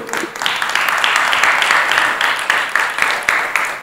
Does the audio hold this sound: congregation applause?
yes